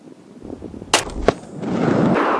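A 9mm pistol fires at a steel plate at about 110 yards in an outdoor range. Two sharp, loud shots come close together, followed by a lingering noisy tail.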